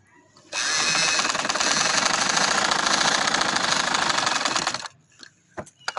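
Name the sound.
sewing machine stitching along the kurti edge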